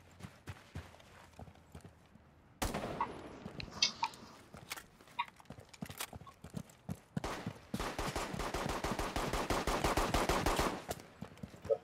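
Rapid bursts of video game gunfire crackle in two long sustained volleys, with scattered single shots and clatter between them, loud and close in a chaotic game mix.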